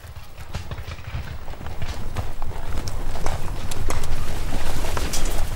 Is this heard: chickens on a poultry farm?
no